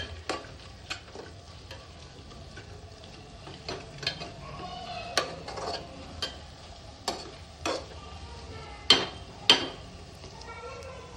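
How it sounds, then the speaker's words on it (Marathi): Dried prawns are roasted and sautéed in a pan, a soft sizzle running under repeated sharp scrapes and knocks of a spoon stirring against the pan, with faint talk in the background. "हे मगाशी फ्राय केलेले सोडे. आगळ ह्याला मस्त आपण भाजून घेऊया, जरा परतून घेऊया."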